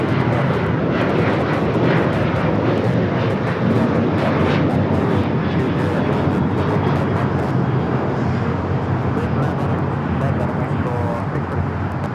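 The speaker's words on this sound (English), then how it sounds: "That was Alaska 1326 taking off to Los Cabos on the 737-900ER." An Alaska Airlines Boeing 737-900ER takes off at Los Angeles International Airport, its loud, steady jet engine roar filling the whole span and rumbling close by, with people talking over it.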